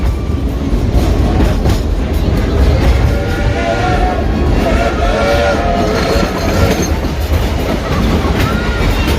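The Klondike Katie steam train at Dollywood rolls along with a loud, steady rumble and rattle of cars on the rails, tonal whistle-like traces rising above the continuous clatter.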